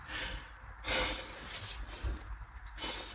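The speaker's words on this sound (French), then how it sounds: "Tu vois comment je suis un peu essoufflé comme ça?" Short, breathy gasps and huffs of someone out of breath during a home push-up workout, close and fairly faint, with an uneven rhythm and no clear words.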